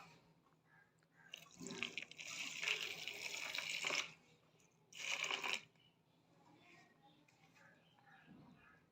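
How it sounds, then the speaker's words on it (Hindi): Water is poured into a detergent powder mixture in two bursts, a splashing, hissing pour of about two and a half seconds followed by a shorter one, fairly close with quiet gaps around them. "ये हमने इनमें पानी डाल दिया"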